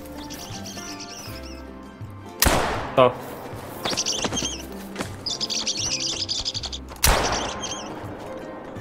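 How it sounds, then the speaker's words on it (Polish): Small birds chirp in TheHunter: Call of the Wild, with bright repeated tweets and a few sharp sudden bursts like shots or flapping, under scattered talk. "słyszę strzały i tylko jak świerkają ptaski malutkie jakieś."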